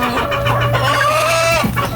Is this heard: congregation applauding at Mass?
no